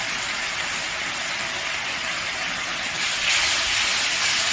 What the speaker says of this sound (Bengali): মশলাটা বেশ ভালোভাবে কষে নেব